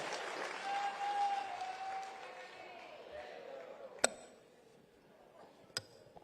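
Audience applause filling Birla Auditorium in Jaipur at a spice workshop, a broad clapping wash that fades out, followed by two sharp isolated knocks.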